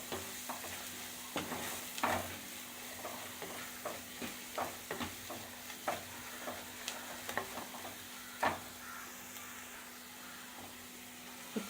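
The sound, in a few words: spice powders frying and stirred on low flame for fish curry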